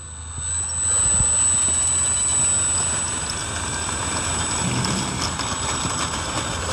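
An E-flite Spitfire Mk XIV 1.2 m RC warbird model on its takeoff run, its electric motor and propeller producing a steady loud whine that swells and holds throughout, with outdoor wind noise.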